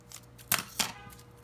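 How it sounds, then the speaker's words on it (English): Scissors snip through a plastic bag in a kitchen, two sharp close cuts about a quarter second apart, loud against a quiet room. "Handy dandy scissors in the scissor drawer."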